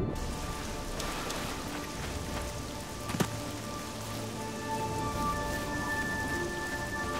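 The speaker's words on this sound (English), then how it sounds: "It's raining." Steady rain falls continuously in the video game Oblivion, a dense, even patter of drops on surfaces with a faint hum beneath and no talking.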